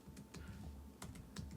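Typing on a computer keyboard at a desk, with several quick bursts of key clicks in an uneven rhythm, close and soft, over a low steady background hum.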